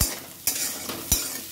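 Bitter gourd and potato slices frying in a pan at home, a soft steady sizzle broken by three sharp scraping stirs of a spatula against the metal.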